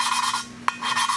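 A valve for a Nissan VQ35DE engine head is lapped against its seat with grinding compound, giving a gritty back-and-forth rasp in rhythmic strokes, close and fairly loud, with a brief click in the middle.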